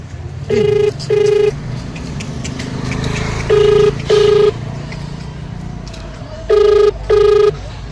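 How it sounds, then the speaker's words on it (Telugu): A phone ringback tone sounds in three paired bursts, evenly spaced, with a low rumble of background noise between the rings. "మనమైతే ఫోన్ చేస్తున్నాం"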